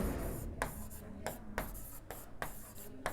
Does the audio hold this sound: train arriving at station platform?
no